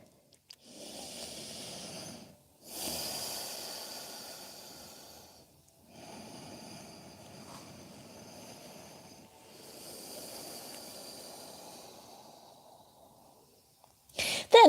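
Slow, deep breathing during a yoga session, long airy inhales and exhales in several steady cycles about two to three seconds each, close and quiet with no talking, ending in a brief bump of sound.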